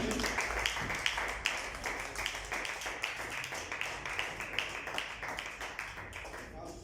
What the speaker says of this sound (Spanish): Denle un fuerte aplauso a Cristo Jesús